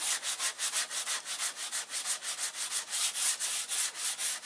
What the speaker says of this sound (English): the sanding is what takes the most time on these models.